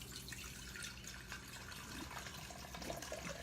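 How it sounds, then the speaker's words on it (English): Bourbon pours steadily into a jar holding vanilla for homemade extract, a soft continuous trickle and gurgle of liquid heard close up with no talking. "And you pour it all the way up here."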